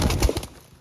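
Pigeons coo in a few short low calls close by, fading after about half a second, with a faint flutter and no speech.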